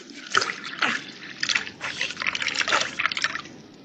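Water poured into squeezed lemon juice in a kitchen, a trickling, splashing stream in uneven bursts, close and fairly loud with no talk over it.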